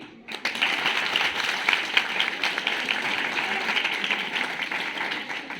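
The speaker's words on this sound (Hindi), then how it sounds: "अब एक ताली इस बात की बजाना कि आज से हम इसको अप्लाई करेंगे" Audience at a study-skills talk breaking into applause, a dense, continuous patter of many hands clapping for several seconds at a steady level before easing slightly.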